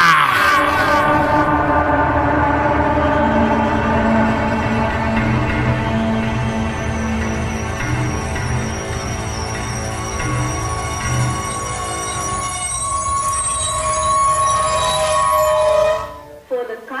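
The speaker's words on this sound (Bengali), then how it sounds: "ট্রেন একটা স্টেশনে এসে দাঁড়িয়েছে।" A train pulls into a station as a sound effect in a Bengali horror story, heard as loud, sustained metallic ringing and squealing tones that hold steady before cutting off abruptly near the end.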